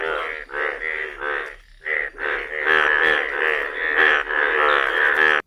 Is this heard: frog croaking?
yes